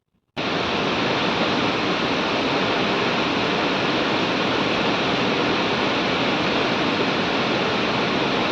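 Water pouring down from Arbi Falls near Karkala, a dense, loud, unbroken roar of falling and rushing water that starts abruptly and holds steady throughout with no voices.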